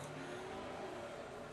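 Low, steady traffic rumble of a bus passing outside, muffled and fairly faint as if heard through a window, fading slowly over a second or two.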